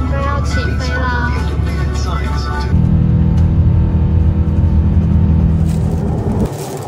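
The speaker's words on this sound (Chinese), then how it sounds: "准备要起飞啦！" A China Airlines Airbus A350-900 jet takes off, heard from the business class cabin. A deep engine rumble swells and roars steadily, with a voice talking over the first part.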